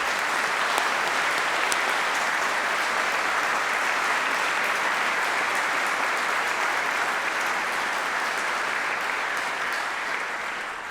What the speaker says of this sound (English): we and you should take this opportunity to applaud them in recognition of their achievements